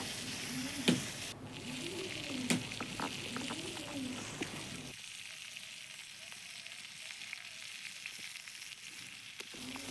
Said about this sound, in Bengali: আর কিছুটা আলু আছে এটা দিয়ে নেব এটাও ভালো করে ভেজে নেব